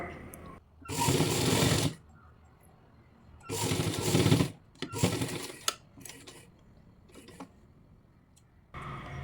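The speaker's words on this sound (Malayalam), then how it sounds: "നിങ്ങളിതുപോലെ താഴെ വരെ സ്റ്റിച്ച് ചെയ്യുക" A sewing machine stitching a nighty seam runs in three short bursts of brisk whirring, separated by quiet pauses with soft handling clicks.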